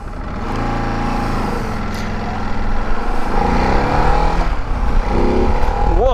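A 2023 Ducati Desert X motorcycle pulls hard in second gear on the street, its engine note rising steadily and loudly over several seconds with a few brief dips, heard up close from the rider's position and without talk.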